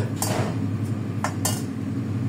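A metal pot lid clinks and rattles as it is set back onto a cooking pot of pork humba with banana blossom, a few sharp close clanks over a low steady kitchen hum, with no talking.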